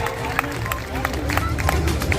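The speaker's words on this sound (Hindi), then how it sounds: "मैं चाहता हूँ उनके सम्मान में आपकी तालियां उठें" Audience applause at a poetry gathering at a Dussehra fair, dense irregular clapping from a crowd, sustained and fairly close, with murmuring voices underneath.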